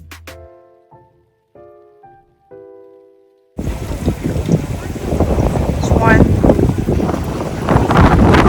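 Strong wind buffets an outdoor market square, a loud roaring rush that starts abruptly after a few soft tones and keeps gusting. Someone talks over it.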